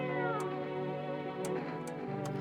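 Cat meows in the video game No, I'm Not A Human, several close meow calls over a steady tonal game soundtrack, with brief sharp clicks at intervals.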